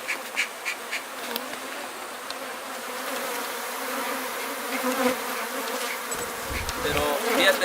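A swarm of aggressive honeybees around a huge honey-filled comb makes a dense, continuous buzzing drone, with individual bees zipping close to the microphone over the steady hum.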